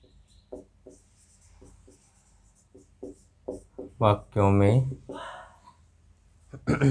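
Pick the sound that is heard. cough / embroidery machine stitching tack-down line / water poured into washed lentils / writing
writing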